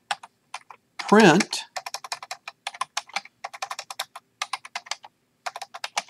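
Rapid keystrokes on a computer keyboard, typed in quick bursts while writing Python code to read buttons on a BeagleBone Black, with someone speaking briefly near the start.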